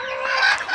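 A hen on a small poultry farm with cages gives one short, close, fairly loud cluck, heard on its own.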